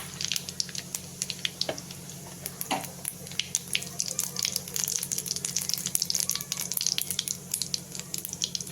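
Mustard seeds and cumin crackle in hot oil while tempering for a cracked-wheat upma, a dense patter of small pops and fizzing over a low steady hum, quiet and close.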